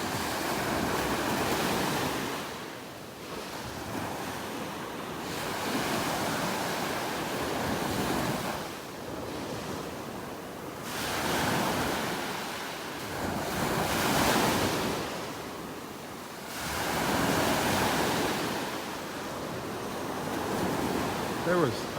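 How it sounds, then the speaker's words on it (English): Ocean waves surge and crash on a beach in North Naples, Florida, rolling in loud swells roughly every four to five seconds with wind buffeting the microphone; no voices. "There was a couple big waves in a row."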